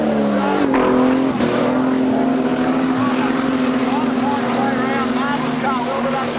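Modified production race cars at Kingaroy Speedway roar past with loud, sustained engine drone and shifting pitch as they circle the track, a commentator talking over the noise.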